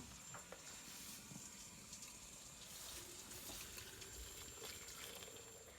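A steady, faint stream of water is poured onto dried herbal tea leaves, including rose hip and citrus peel, a continuous gentle gush with no talk.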